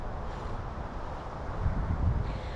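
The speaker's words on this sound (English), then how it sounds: "like right now it's really windy" Gusty storm wind roars and buffets the microphone in a steady, loud low rumble, swelling stronger toward the end, with no voices.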